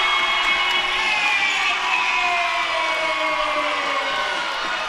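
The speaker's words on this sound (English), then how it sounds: "Crowd here at the Fieldhouse feeling it." A basketball crowd cheering steadily in a fieldhouse at a women's college game, with loud sustained shouting and whoops that fill the space for several seconds, without any clear talk.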